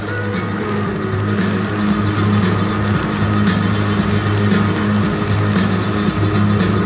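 A Ferrari 458 drives past at the Monaco new-energy rally circuit, its engine droning steadily and loudly throughout with a low continuous hum and no talk over it.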